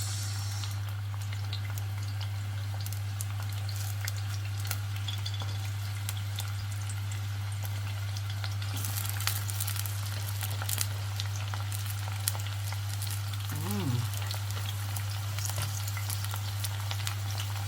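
Onions, carrots, garlic and pimento seed fry in oil for an escovitch sauce, giving a steady, close sizzle under a constant low hum, with a brief stir near the end.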